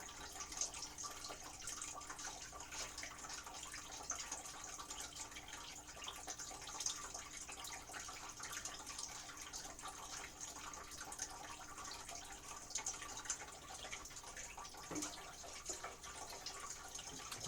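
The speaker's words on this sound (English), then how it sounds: "Now we'll put the water in there." Water pours steadily into a home fish tank, a faint, continuous trickling splash that runs unbroken with no talking over it.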